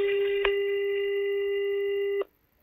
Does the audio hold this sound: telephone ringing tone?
yes